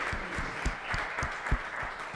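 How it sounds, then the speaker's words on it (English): Audience applause at a live show, a short burst of steady clapping from a crowd with a few louder claps standing out. "give another round of applause for Texas Experience and Tamara and Connor for helping us."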